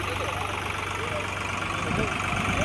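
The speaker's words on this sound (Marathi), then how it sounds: "तर बघा ही नांगरणी चालू आहे." A tractor engine running while ploughing a field during a school tree-planting event, a steady low idling drone with a slight rise near the end, as a voice talks over it.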